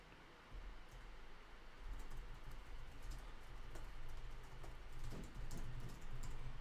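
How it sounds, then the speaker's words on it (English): Steady typing on a computer keyboard, a dense run of quick clicks close to the mic over a low background hum, continuing without pause. "I'm just typing out the lineups"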